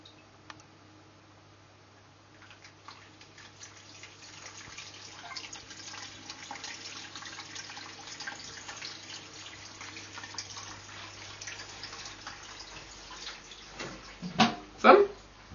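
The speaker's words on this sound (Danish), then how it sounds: "Nu kommer vandet op over, og så bliver det pumpet ud." A pump circulates water through a home beer-brewing setup, a gurgling, splashing flow that builds gradually and ends in louder sloshes, with someone talking over it.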